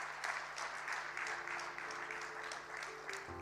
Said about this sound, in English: Let's please give him a massive round of applause.